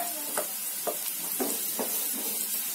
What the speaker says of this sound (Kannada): ಈಗ ತಗೊಂಡಿರೋಂಥ ಎಲ್ಲ ಮಸಾಲಾ ಪೌಡರ್ಗಳನ್ನು ಒಂದೇ ಸಲ ಹಾಕೊಳ್ತಿದ್ದೀನಿ